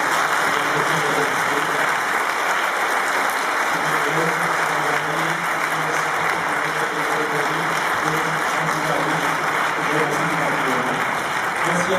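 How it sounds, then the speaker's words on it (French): Audience applause at a French film preview screening for the producers of Artisans du changement, a steady, dense clapping that fills the whole stretch at even loudness, with some murmuring voices underneath. "On peut les applaudir."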